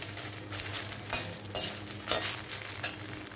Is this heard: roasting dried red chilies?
yes